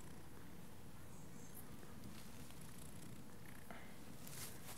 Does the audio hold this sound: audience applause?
no